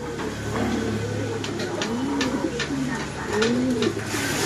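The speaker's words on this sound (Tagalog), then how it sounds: "Ayan o, ito yung lugon na ibon eh." A lugon, a pigeon-like bird, coos several times in soft, rising-and-falling phrases, with faint clicks and a low background hum.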